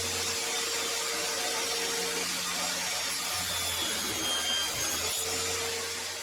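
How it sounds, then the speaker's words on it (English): A table saw cuts upright solid maple stock held in a quick tenon jig, giving a steady, close, loud whine with rough cutting noise that shifts slightly as the blade passes through the wood. "I'm just going to cut those on the table saw again."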